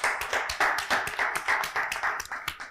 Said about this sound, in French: qu'on applaudit très, très, très fort